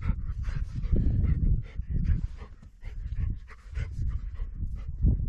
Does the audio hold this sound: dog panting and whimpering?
yes